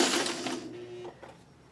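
A sewing machine sews the corner of a crumb quilt block, a brief loud burst of stitching that fades quickly, followed by a short quieter run.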